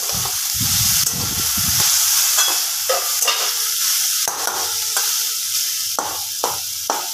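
Vegetables fry in a pan for chira pulao, a close hissing sizzle with a low rumbling clatter at first, then scattered sharp scraping stirs over the steady crackle.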